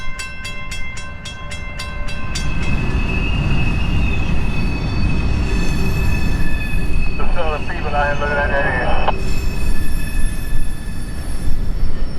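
A short freight train rumbles steadily along the rails, loud and close, with rapid ringing at the start and a wheel squeal partway through.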